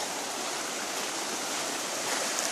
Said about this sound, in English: that creek that runs up alongside my property